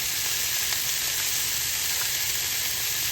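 Asparagus and a little minced garlic sizzle steadily in a hot frying pan, a constant close hiss with faint crackles running through without a break.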